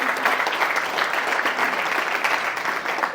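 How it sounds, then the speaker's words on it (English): Steady audience applause fills the whole stretch at an honorary panel event: dense, even clapping from a sizable crowd, close and fairly loud, with no voices over it. "Round of applause."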